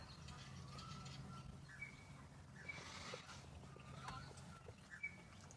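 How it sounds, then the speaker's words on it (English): Faint, distant birds chirp outdoors in short high tweets scattered over a steady low background rumble, quiet and sparse throughout. "I can hear birds."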